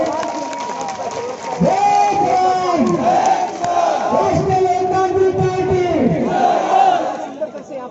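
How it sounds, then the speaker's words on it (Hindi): At a farmers' outrage rally of the Rashtriya Loktantrik Party, a large crowd roars and cheers, with loud overlapping shouts and chant-like voices rising and falling continuously at close range. "जोरदार तालियों से आप स्वागत करें"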